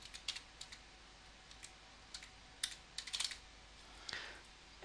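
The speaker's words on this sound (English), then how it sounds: "you've got to type in the word verification here" Scattered keystrokes on a computer keyboard while entering a word verification code during email account setup, sounding as light, close clicks in small irregular clusters over a quiet background hiss, with no talking.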